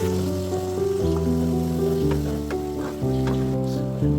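Broth goes a little at a time into hot oil with garam masala and ground coriander for chicken curry. It makes a soft, steady sizzle and bubble, close by, beneath background music.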